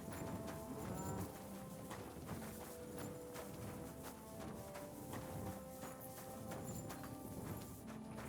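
Horse hooves walking in the video game Kingdom Come Deliverance 2, a steady run of soft clip-clop steps under a continuous dense game ambience with no speech.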